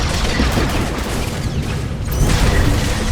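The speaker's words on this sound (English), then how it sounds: "The Knight starts things by detonating a barrel of explosive material and then wading in." An explosive barrel blows up during a Star Wars: The Old Republic battle on Taral V, a dense, loud booming burst of blasts and rattling gunfire-like crackle that fills the short stretch without letup.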